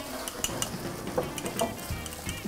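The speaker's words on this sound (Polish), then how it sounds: "Włożę te ugotowane jajka." Boiled eggs are set into a metal pot with the gas turned off, giving several light clinks and knocks against the pot over a soft background, close and moderately loud.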